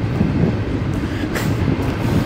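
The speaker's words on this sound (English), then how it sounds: "We got some train coming by." A train rolls by close at hand, a loud continuous rumble and rattle of rail cars that holds steady throughout, with no talking.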